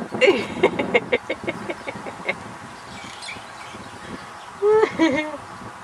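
Birds call in bursts outdoors as they are fed, with clucking, rooster-like sounds mixed with a few short whistled calls, heard between people talking nearby.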